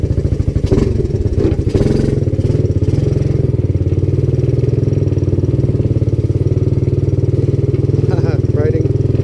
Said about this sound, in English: Let's get a little ride in.